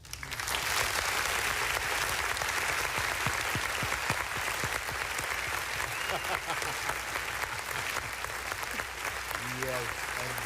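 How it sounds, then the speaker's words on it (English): Loud, sustained applause fills the room during a live show, many hands clapping in a dense continuous roar that holds steady, with a voice breaking in near the end. "let's stop that applause"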